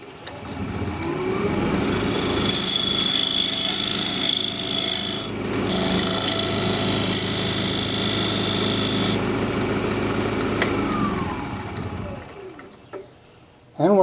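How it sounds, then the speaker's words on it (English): A steady rasping, scraping cut of a diamond point lathe tool squaring a tenon on spinning laurel wood, with motor hum underneath, pausing briefly midway before resuming and then winding down. "take this diamond point tool and square up the sides of the tenon."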